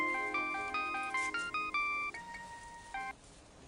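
Mobile phone ringtone for an incoming call, a bright electronic melody of short stepped notes repeating in quick phrases, then a pause before a final pair of tones, clear and fairly close.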